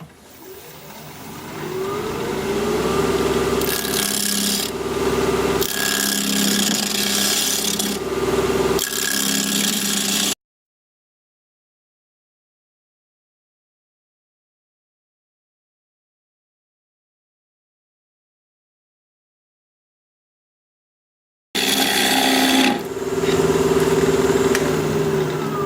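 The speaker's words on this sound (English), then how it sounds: "And I've got my 5/8 inch bowl gouge all sharpened up." A sharpened 5/8 inch bowl gouge cuts hard hawthorn wood spinning on a lathe, a loud rough scraping roar over a low motor hum, broken by short gaps and a long silent stretch midway.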